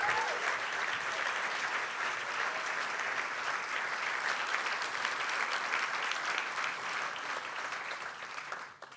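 An opening-night festival audience applauds board members with sustained, fairly soft clapping from a large room full of people, tapering off at the very end.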